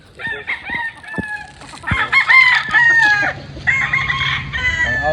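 Several Boston cross Kanawayan stags crow one after another at close range, loud overlapping cock-a-doodle calls following a few sharp clucks, with short gaps of quiet between bursts.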